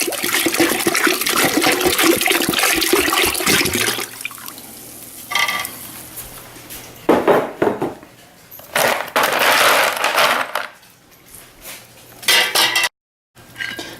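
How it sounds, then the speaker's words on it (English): Cold refrigerated water pouring into a pot of freshly boiled beer wort during home brewing, a loud steady splashing rush for the first four seconds, then quieter intermittent splashes and clanks of the pot. "Now we're going to add some cold refrigerated water"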